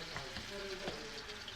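Coconut masala hitting hot oil for a home-style Maharashtrian egg curry, giving a steady, close sizzle that holds evenly with faint stirring scrapes mixed in.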